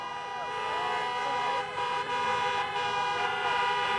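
Many car horns honk at once at a drive-in campaign rally in Pittsburgh, a dense, continuous chorus of overlapping toots that stays loud for the whole stretch with no talk over it.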